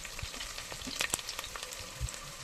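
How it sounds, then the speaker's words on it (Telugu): Whole spices and a bay leaf fry in hot oil for bagara rice, a faint steady sizzle broken by a few sharp pops and spatters as they are stirred. "ఒక బిర్యానీ ఆకు వీటన్నిటి మంచి బ్రౌన్ కలర్ వచ్చే వరకు కలుపుతుంది"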